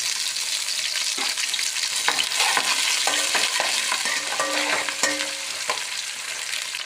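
Green chillies and coriander fry in a mutton curry pan with a steady close sizzle, broken by scraping and clinking stirring strokes, with no talking.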